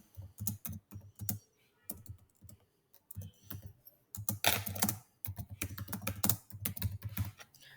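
Someone types Python code on a computer keyboard in irregular bursts of close, crisp key clicks separated by short pauses, with a quick, busy flurry near the end.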